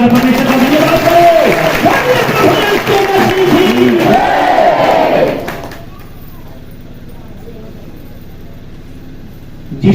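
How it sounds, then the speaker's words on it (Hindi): A church congregation claps and cheers loudly to thank God for about five seconds, a dense burst of hands and voices that cuts off abruptly, leaving a quiet room with faint murmur before a sound returns at the end. "ताली बजा के परमेश्वर का धन्यवाद करो।"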